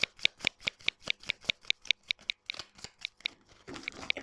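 Oracle cards being shuffled by hand, a rapid, even run of crisp flicking snaps up close and fairly quiet, ending in a softer riffling rustle.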